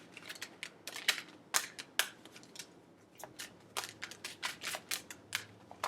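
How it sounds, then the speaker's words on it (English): A deck of tarot cards being shuffled close up: quick crisp riffles and snapping card edges in irregular bursts, some sharp and loud, with quiet pauses between them. "Okay, I'm going to shuffle these cards."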